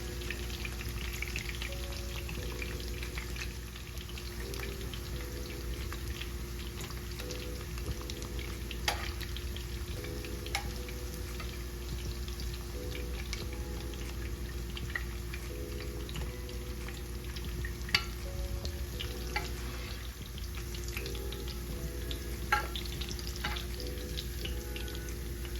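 Shrimp, peppers and garlic fry quietly in a pan for crispy salt and pepper shrimp, a soft continuous sizzle with scattered pops and crackles under a faint low hum.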